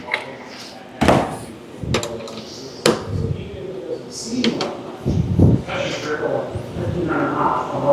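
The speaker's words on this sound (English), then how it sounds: "We're going to slide this bracket back almost a full bolt." Metal bracket of a WorkSport AL3 Pro tonneau cover on a 2022 Ford Maverick sliding back, with several sharp metallic knocks and scrapes under someone talking.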